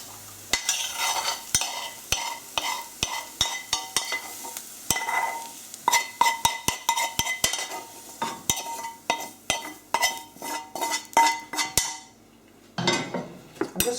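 Cooked, browned food for a low-protein omelette is scraped and transferred into a bowl, with a steady run of sharp clinks and taps of a utensil against pan and bowl and a faint sizzle underneath.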